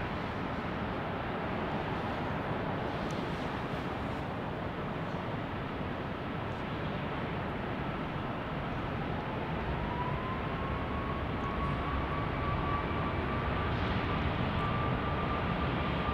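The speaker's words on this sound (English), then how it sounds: "Here we've got a 737 MAX 8, an American." An American Airlines Boeing 737 MAX 8 takes off from runway 34 right at Salt Lake City with a steady, loud engine roar and a rising whine that climbs and holds toward the end, with no voices.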